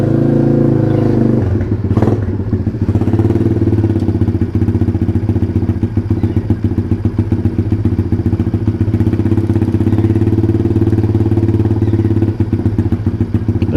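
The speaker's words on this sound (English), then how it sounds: "I'm going to start the bike and let it idle" A Chinese pit bike fitted with a cheap $8 air filter idles steadily and loudly up close, a continuous low engine drone with a brief clatter near the start.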